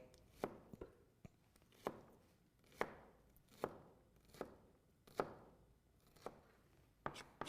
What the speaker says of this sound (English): So we're gonna go ahead and just break this shallot down.